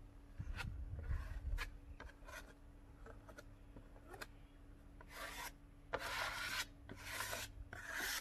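A plaster knife drags across fresh plaster being smoothed onto a damaged gyprock wall, giving repeated close scraping and rubbing strokes with short gaps between passes.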